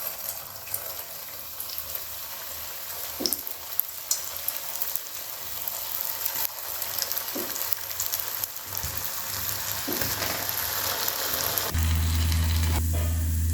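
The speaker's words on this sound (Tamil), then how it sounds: "எண்ணெய் நல்லா காஞ்சிருச்சு. இப்போ நம்ம ஒவ்வொரு பொட்டேட்டோ ஸ்டிக்கையாக போட்டு எடுத்துடலாம்." Potato sticks deep frying in hot oil in a kadai give a steady, close sizzle and bubbling hiss, broken by occasional clinks and stirring sounds, growing slightly louder toward the end.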